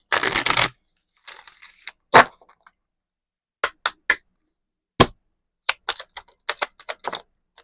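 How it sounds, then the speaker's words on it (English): Oracle cards being shuffled by hand, with a burst of riffling at the start, then scattered short taps and card flicks spaced irregularly, close and fairly crisp in a quiet room. "we're going to pull one more oracle card before you go"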